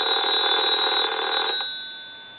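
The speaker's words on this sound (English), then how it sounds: "I'm going to let that ring a couple times." A Kellogg telephone's mechanical bell rings loudly and continuously for about a second and a half, then cuts off, leaving a fading ring-down.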